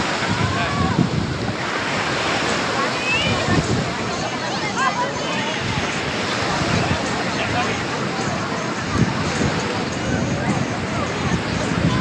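Sea waves breaking on the beach at Puri, a continuous loud wash of surf mixed with wind buffeting the microphone, with people talking and calling nearby.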